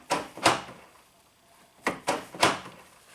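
Toyota power door locks actuate with sharp mechanical clunks: two quick ones, a pause, then three more in fast succession, close and distinct against a quiet background.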